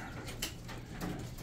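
Quail calling inside a four-story quail cage, soft repeated coos and chirps blending into a steady low background with no talking.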